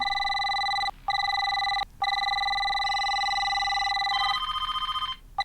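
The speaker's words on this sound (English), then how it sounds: "Okay, how many phones are in here?" Telephones ring in a scene from the movie Constantine, a loud electronic warble in bursts separated by short gaps, then several rings overlapping before cutting off; no voices.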